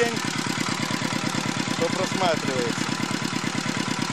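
Walk-behind tractor engine running at higher speed during tuning: a rapid, even single-cylinder chugging that pulses steadily and close up, while someone speaks briefly over it.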